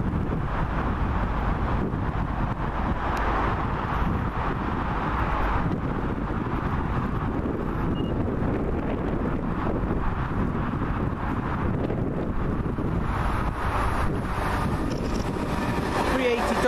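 A Class 380 electric train on the fast Gourock to Glasgow service rumbles past Cardonald station, a broad continuous roar with wind buffeting the microphone throughout, steady and close with no clear rise or fade.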